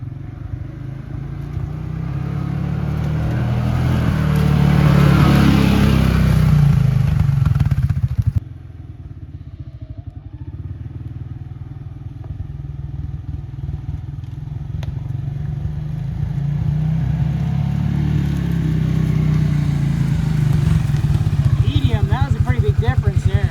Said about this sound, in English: testing the different modes of the engine braking down that pretty steep hill